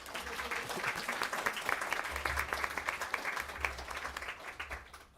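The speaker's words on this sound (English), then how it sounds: "So applause for everyone" An audience at a tabletop role-playing convention panel claps steadily for several seconds, a dense patter of hands with a few sharper claps standing out before it fades at the end.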